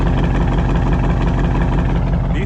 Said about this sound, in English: And just listen to this idle.